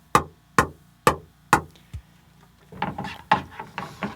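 Sharp hollow pocks of a pickleball striking a stiff Pickleball Evo paddle, four evenly spaced hits followed by a softer one, then a cluster of quieter taps and rustling near the end.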